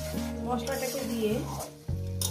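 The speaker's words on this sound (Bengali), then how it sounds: "সুন্দর করে কষিয়ে দেব যতক্ষণ না মশলা থেকে তেলটা আলাদা হয়ে যাচ্ছে" Ground spice paste fries with a little water in a pan for a Bengali fish curry with potatoes, giving a soft continuous sizzle under a voice talking over it.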